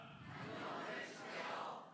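A church congregation stands and shouts a short slogan together with raised fists during a Korean worship service, a dense, distant-sounding roar of many voices lasting about two seconds.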